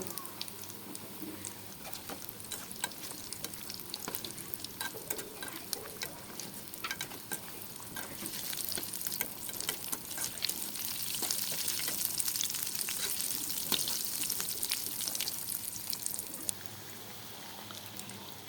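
Liver-filled singaras frying in oil over low heat while being turned, a continuous close crackling sizzle with scattered pops that swells louder midway before easing, no voices.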